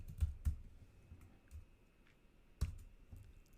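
A handful of keystrokes on a computer keyboard click at irregular intervals, soft and close, with quiet gaps between the taps.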